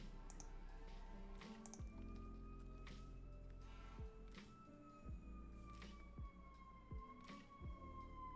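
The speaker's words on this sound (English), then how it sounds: "if the ambulance is outside, could shut up for 1 second" An emergency siren wails from outside, a rising and falling tone running steadily through the whole stretch, moderately loud behind a room with occasional thumps and no speech.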